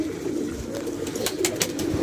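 Pigeons coo softly in a brief stretch of low, murmuring calls over faint background noise, close by and fairly quiet.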